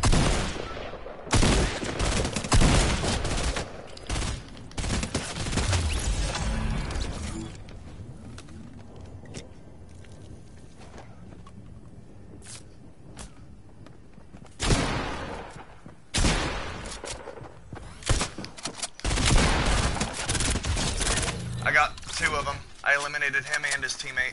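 Several loud bursts of Fortnite gunfire, some rapid volleys and some single cracks, come in separate clusters with quieter stretches between them.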